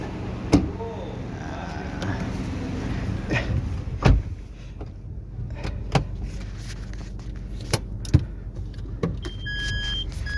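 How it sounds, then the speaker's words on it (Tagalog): A couple's car used as their service vehicle, with the steady rumble of the vehicle and several sharp clicks and thumps of doors, windows or handles spread through the sound, close by and fairly loud. "Ito pala yung sasakyan natin na service ko"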